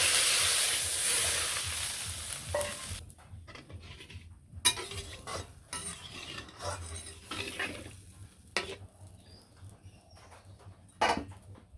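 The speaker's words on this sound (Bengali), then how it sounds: "মশলার সাথে আলুটা ভালো করে কষানো হয়েছে" Potatoes being stirred and fried with spices in a pan, with intermittent spatula scrapes and clinks against the metal over a soft background sizzle, loud strokes at irregular intervals and no voices.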